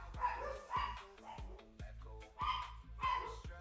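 Several dogs bark in repeated bursts with some yips and whimpers, moderately near and fairly loud, over a steady low background hum with no talking.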